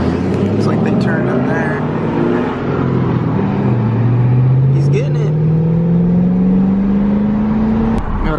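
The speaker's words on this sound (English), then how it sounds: "Ourselves a GT500 coming up beside us. Hey, the supercharger whine." A Ford Mustang GT500 passes alongside at a car meet, its supercharger whine rising steadily in pitch over a loud engine roar, with people talking over the traffic noise.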